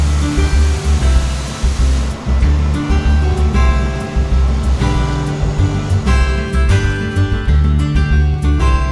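A waterfall in Dalat roars loudly and close, a dense continuous rush of falling water with a steady churning texture and no voices over it.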